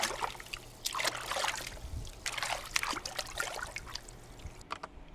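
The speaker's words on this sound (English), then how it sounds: "bathing, water splashes" Bathing water splashing and trickling in irregular bursts, close and fairly quiet, with no voices present.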